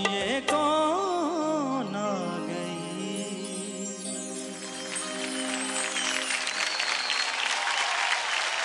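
Audience applause for a singer on the TV singing show Saregamapa Singing Superstar, rising beneath fading music into a loud, sustained crowd clapping with cheers.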